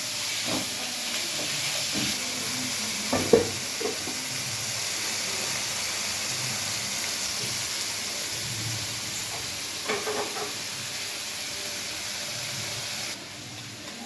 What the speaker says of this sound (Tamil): கொஞ்சமாக குடமிளகாய், இது அப்படியே போட்டு ஒரு 2 மினிட்ஸ் அப்படியே ஃப்ரை பண்ணுங்கள்.